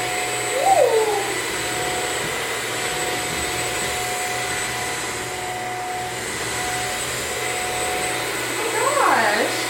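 A Bissell CrossWave Omniforce Edge wet-dry vacuum runs with a steady, moderate motor whine and airflow hum, and faint voices are heard briefly near the start and the end.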